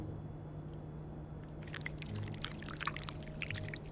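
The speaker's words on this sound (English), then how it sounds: "we need to pour the wax from the pot." Wax poured from a pot in a video game, a faint liquid trickle with small splashy bubbling sounds over quiet background hum.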